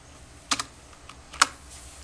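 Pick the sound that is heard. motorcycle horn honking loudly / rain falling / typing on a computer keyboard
typing on a computer keyboard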